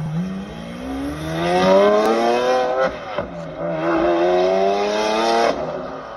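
A Porsche 992 911 pulls up at a car event in Jurerê Internacional, its engine loudly rising and falling in pitch through revs and gear changes, close by with no talking.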